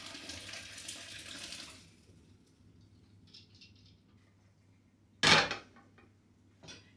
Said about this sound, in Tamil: இப்போ அடுப்பை நிப்பாட்டி போட்டு வடிக்கிறேன்.